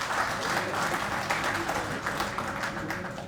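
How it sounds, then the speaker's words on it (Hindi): A crowd gives loud, sustained applause to welcome a presenter at a business presentation, dense clapping filling the hall steadily throughout. "तो ज़ोरदार तालियां शिवशंकर जी के लिए।"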